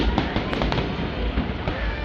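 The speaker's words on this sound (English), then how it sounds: "I'm not so interested in the fireworks." Fireworks bursting on the Fourth of July, a dense run of booms and crackling pops filling the whole stretch, loud and continuous with sharp cracks standing out.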